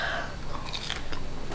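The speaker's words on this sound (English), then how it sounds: "you hear that crunch?" A bite into fried, beer-battered wild ocean perch gives a few quick, close, crisp crunches in a quiet room.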